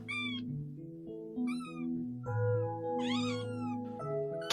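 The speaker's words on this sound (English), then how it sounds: "Kittens meow to say hello or to ask for something." A kitten meows several times in a row, close and clear, each call a short rising-and-falling cry with brief pauses between, heard alone without talking.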